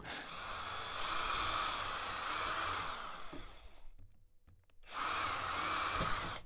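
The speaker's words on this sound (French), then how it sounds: "Percez sur les 2 points un trou." Drill boring holes through a wooden slat, a loud, close whining buzz that runs for several seconds, cuts out briefly, then starts again.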